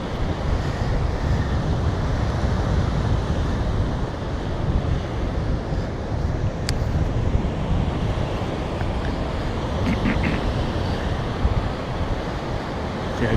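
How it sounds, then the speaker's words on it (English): Strong wind roars steadily outdoors, a loud broadband rush buffeting the microphone for the whole stretch, with no talking, during a metal-detecting outing. "Ooh, it's windy out here."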